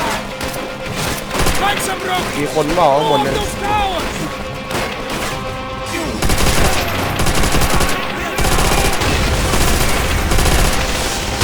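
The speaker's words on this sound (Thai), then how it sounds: "ตายมันยิงมาจากซุ้มข้างบนเนี่ยไอ้ปืนใหญ่มันเนี่ย" Call of Duty: World at War battle with heavy gunfire and artillery shooting down from a bunker above: rapid automatic bursts and booming shots, loud and continuous, under excited talking from a player.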